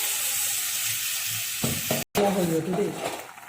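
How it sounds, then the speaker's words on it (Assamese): Coconut milk is poured onto sizzling chicken in a pan, a hiss that swells into bubbling frying with a brief cut midway, stirring noises following close by. "এতিয়া আগৰ পৰা উলিয়াই থোৱা নাৰিকলৰ গাখীৰখিনি ইয়াত ঢালি দিম"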